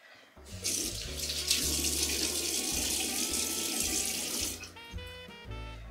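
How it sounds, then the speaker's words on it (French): Tap water runs steadily into a bathroom sink while a face is washed, a continuous splashing stream for about four seconds with low background music underneath, then the flow stops. "je vais mouiller le visage et me laver le visage"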